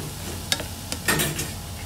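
Shallots and bacon sweating in a pan, with a soft steady sizzle under a few sharp scrapes and clicks of a spoon stirring against the pan.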